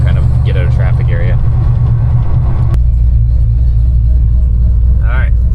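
A Dodge Dakota pickup truck rolls through traffic, its engine a loud steady low rumble filling the cabin, with someone talking over it in bursts.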